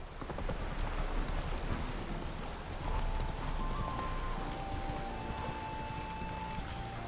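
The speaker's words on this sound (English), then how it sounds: "Why is it always raining in this town?" Steady rain falls in a dense, even hiss in a town in The Witcher 3: Wild Hunt, with a low rumbling undertone and a faint sustained tone drifting through, no voices.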